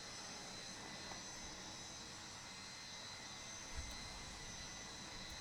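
JustFlight McDonnell Douglas DC-10 jet engines in a flight simulator give a steady, faint broadband roar with a high whine above it and no talk.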